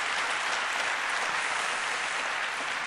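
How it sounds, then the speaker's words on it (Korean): A church congregation claps together at a Korean New Year's Eve service, a dense, steady wash of applause that fills the room without letup. "박수 한번 다 같이 하겠습니다."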